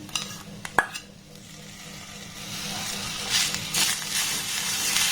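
A spoon clinks against a pan, then steady stirring scrapes along with a soft sizzle as grated coconut and cane jaggery cook over a low gas flame.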